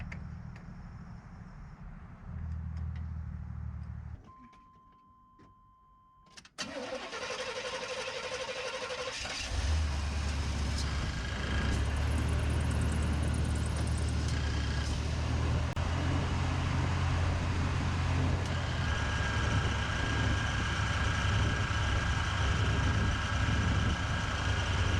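A 1988 Chevy Suburban squarebody, just after an AC compressor shaft seal repair, cranks over and starts, then settles into a steady rumbling idle close by with a constant fan and mechanical whine.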